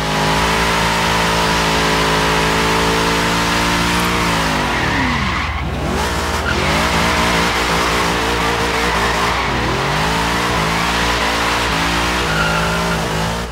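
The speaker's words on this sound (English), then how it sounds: "Oh yeah, she does a good burnout." A 1967 Ford Falcon XR GT with its factory motor doing a burnout in Forza Horizon 3: the engine holds a loud, steady rev while the tires squeal continuously, dipping and climbing in pitch as the throttle shifts.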